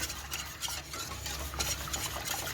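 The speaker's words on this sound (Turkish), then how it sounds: "Şimdi bunu iyice şöyle karıştırıyoruz" A flour and strained yogurt soup mixture being stirred steadily in a pot, producing a continuous close scraping and swishing with a faint low hum underneath.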